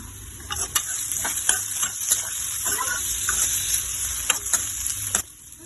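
Chopped tomato goes into a hot pan for Maggi noodles, bringing a steady sizzle and frying crackle with scattered stirring clinks and scrapes, close up and fairly loud, ending abruptly.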